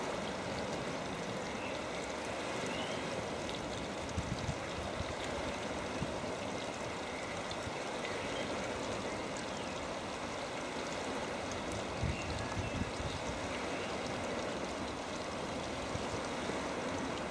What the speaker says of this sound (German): Das ist dieses Wasserrad bzw. die Mühle mal aus einer anderen Perspektive.